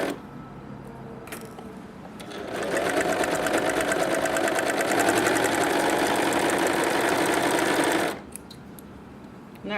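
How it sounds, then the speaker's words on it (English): An overlocker serger stitches a T-shirt shoulder seam, starting after a quiet moment and running at a fast, steady whir for about five seconds before stopping abruptly, close and clear. "Have your other shoulder seam ready to go into the front of the overlocker, and keep overlocking."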